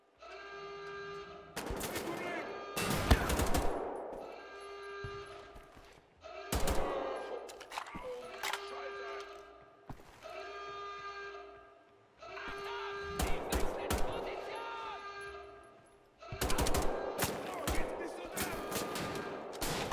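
Single-shot gunfire in the video game Wolfenstein: The Old Blood, clusters of sharp, loud shots in repeated bursts over a steady tonal game soundtrack, with quieter pauses between volleys.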